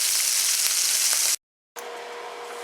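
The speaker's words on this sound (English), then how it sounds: "you've got to really stir it and fry it" Beef stir-frying in a wok on a NuWave induction cooktop gives a loud, bright, steady sizzle with occasional stirring scrapes, cut by a short silent gap before the sizzle returns slightly softer.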